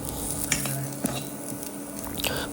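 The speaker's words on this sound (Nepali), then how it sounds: "हरियो खुर्सानी हालेर केही बेर चलाउने" Chopped green chillies are stirred and fried in a pan for an omelette curry: a continuous close sizzle broken by a few distinct spoon scrapes and clinks against the pan, with no talking.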